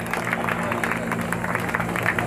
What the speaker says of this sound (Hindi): जब तक वो मंच पे आए तालियां बजती रहनी चाहिए